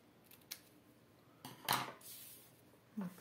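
Scissors snip through cardstock while a handmade Stampin' Up! ladybug card is being made: a few short, close cuts come in quick separate bursts with quiet gaps between them, and no one speaks.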